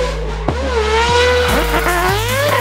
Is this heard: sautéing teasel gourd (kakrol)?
no